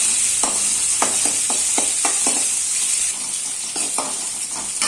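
Onions frying in a pan for puli kulambu, a steady, bright sizzle with repeated scraping knocks of a spoon stirring at an irregular rhythm, close and fairly loud.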